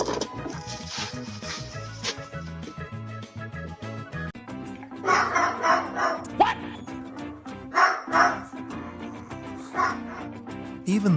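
A dog in a house barks and yips in short bursts, with some whimpering, loud and close over a busy background of music and other sounds.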